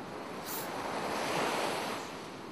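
Sea waves washing onto a beach in Odisha, a continuous broad surf roar that swells and recedes gently, with some wind buffeting the microphone and no voices.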